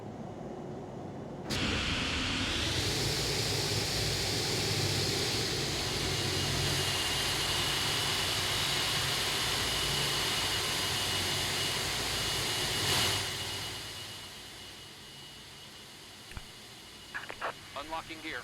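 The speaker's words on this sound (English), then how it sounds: "I'm going to tell GSX we have good engine start." Simulated Aerosoft A330 jet engines spooling up in the Prepar3D v5 flight simulator, a loud steady whine and roar that holds for several seconds before fading down, followed by a few small clicks.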